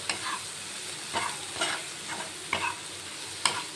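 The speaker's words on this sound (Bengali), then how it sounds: "মশলাটা একটু ফ্রাই করতে হবে সুন্দর করে" Spice masala fries in oil in a pan with eggplant, a soft continuous sizzle under periodic scraping stirs of a spatula, close and fairly quiet, with no talking.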